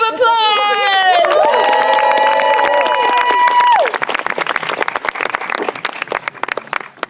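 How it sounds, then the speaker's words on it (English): A crowd applauds with dense, steady clapping under bright synthesized musical tones that fade out partway through. "One more round of applause!"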